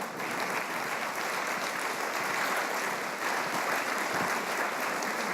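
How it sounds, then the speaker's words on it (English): Audience applause at the 2018 One Planet Summit, a steady, even wash of many hands clapping in a large hall, fairly distant and sustained throughout. "You can certainly applaud for them, what they did there."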